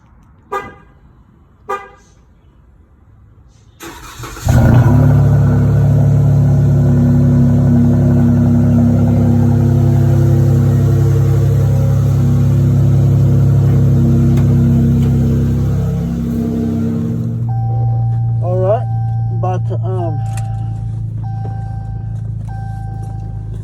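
A car fitted with a stock intake before a Mopar air intake install, already warm from an earlier start, fires up with a loud rumble, revs and then settles to a steady idle, with two short horn toots before it starts and brief honks near the end.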